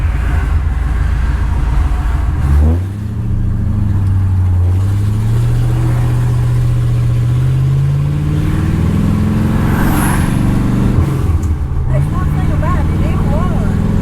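A restored 1964 Ford Galaxie 500 with headers idles and runs steadily up close, its low engine rumble rising gradually in pitch, with people talking over it.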